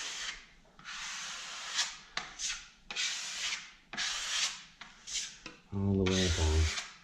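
A filling knife scrapes filler into a joint in lining paper, giving repeated short rasping strokes in an uneven rhythm, close and fairly quiet, with a brief low hum near the end.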